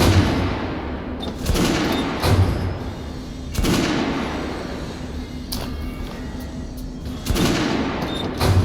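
Gunfire in the video game Metro Last Light, with several loud bursts of shots and booms spaced across the stretch over a dense, rumbling battle background.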